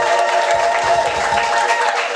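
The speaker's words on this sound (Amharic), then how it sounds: "እልልታና ጭብጨባ።" A church congregation answers with a mix of high trilling ululation and scattered clapping, a lively crowd sound that stays fairly loud and busy throughout.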